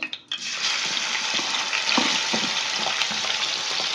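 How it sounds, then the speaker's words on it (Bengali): Chicken pieces drop into hot white cooking oil and fry with a steady, close, loud sizzle, a few soft knocks and stirs under the hiss. "তেলটা এখানে গরম হয়ে গেছে, এবার আমি এই চিকেনগুলোকে দিয়ে দেবো"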